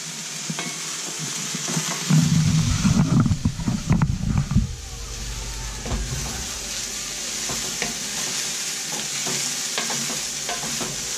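A spoon stirs Chinese noodles with carrots and other vegetables in a pan, making a loud, rough burst of scraping and sizzling early on that settles into a quieter, steady frying hiss, with no talking.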